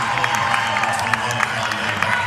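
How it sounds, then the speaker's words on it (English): Crowd at a girls' high school basketball game in a tournament gym applauding and cheering a defensive stop, steady mid-distance clapping and murmur with scattered sharp claps. "The crowd shows their pleasure and pleased with that defense performance"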